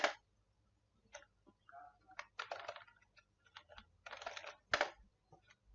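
Typing on a computer keyboard in a Laravel coding session, close, crisp clicks in short bursts separated by pauses, with no talk.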